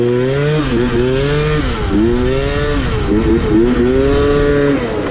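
A Booster 3VL scooter with a merguez setup runs loud and close, its two-stroke engine buzzing steadily while the pitch repeatedly rises and dips with small throttle blips, alone with no talk.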